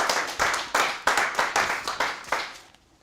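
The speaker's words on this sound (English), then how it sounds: "I don't see all the hands clapping." A convention audience claps in a short run of distinct, roughly rhythmic hand claps, close and fairly loud, fading out at the end.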